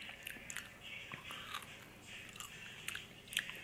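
Crisp, juicy bites into a soft-fleshed Korean strawberry, close and quiet, several crunchy bursts spread over a few seconds with faint chewing between them and no talk.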